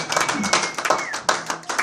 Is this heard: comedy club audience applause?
yes